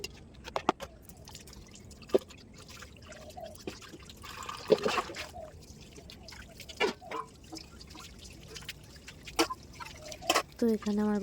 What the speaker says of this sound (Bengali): ওগুলো এখন ধুয়ে নেব